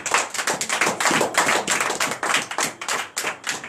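A church congregation at a night deliverance service in Comè, Benin, applauding the Lord Jesus, with dense, rhythmic clapping in steady bursts, loud and close, no voices over it.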